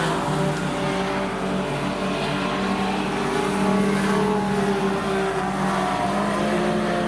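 Junior sedan race cars circulating at a speedway, a continuous engine drone heard from a distance with a steady roar and slight rises as cars pass, no voices over it.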